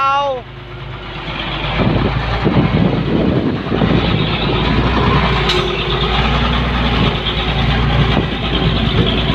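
A car engine idles and revs at launch, a steady low rumble that swells as the vehicle pulls away, with people talking over it.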